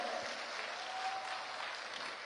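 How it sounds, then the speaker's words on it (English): An audience applauds at a TikTok Southeast Asia Impact Forum in Indonesia, a steady, dense wash of clapping heard alone at moderate distance. "Let's give a big round of applause for this milestone."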